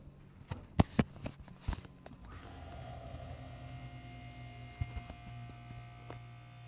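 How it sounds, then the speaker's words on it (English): A Schindler HT elevator machine motor at Villas of Kensington gives a low, steady electrical hum after a few sharp clunks and taps, with more faint knocks later as the drone continues. "I'm gonna let you listen to the motor. Listen to the motor."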